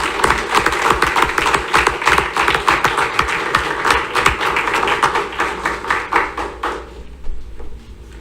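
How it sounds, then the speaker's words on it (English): Applause from an audience at a county school board meeting, a dense burst of many hands clapping that carries on steadily for several seconds before tapering off at the end. "So we'll give them all a round of applause"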